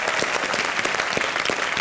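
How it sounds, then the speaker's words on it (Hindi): An audience at a comedy show claps in a dense, steady burst of applause, a continuous wash of many hands close by. "जोरदार तालियां इनके लिए।"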